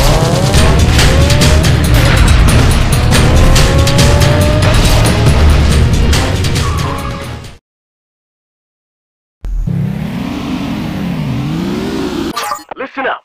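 A car racing in the video game Need for Speed Carbon, with a loud continuous engine roar and tire squeals for several seconds, then a brief silence and a shorter burst of engine and skidding sounds.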